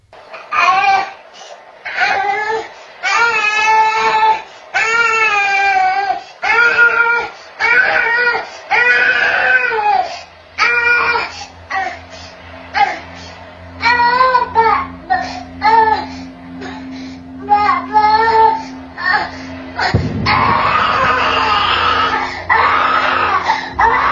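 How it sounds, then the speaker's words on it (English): A baby cries and screams at night, loud wailing bursts that go on and on through the whole stretch, with a harsher, more strained scream near the end. "If I had my baby crying like that, I'd have had a heart attack and running."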